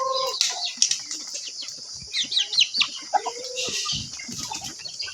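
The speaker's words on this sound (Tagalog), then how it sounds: "daghan kay silag binuhi nga manok." A flock of chickens clucks and squawks in short overlapping bursts, with wings flapping and high chirps, fairly close and busy.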